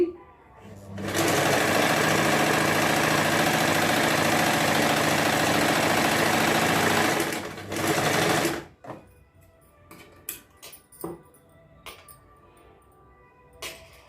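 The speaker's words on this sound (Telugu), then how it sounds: "ఇక కుట్టు కుట్టేసేయండి కుట్టుకునేటప్పుడు లోపల పీసు స్లిప్ కాకుండా చూసుకోండి" A sewing machine stitches a heavy border onto a saree blouse, running in one loud, steady, continuous whir for about seven seconds, then stopping into quieter clicks and handling noises.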